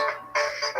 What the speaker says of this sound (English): Can someone answer the phone?